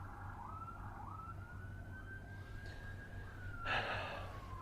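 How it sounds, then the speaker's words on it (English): An ambulance siren wails steadily through a quiet outdoor scene, sounding fairly distant as it passes, with a brief louder burst of noise near the end. "There's another ambulance."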